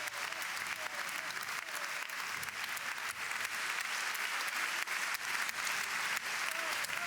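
A jubilant crowd of party members claps steadily at Social Democrats party headquarters in Berlin, sustained applause at a moderate distance with a faint murmur of voices underneath.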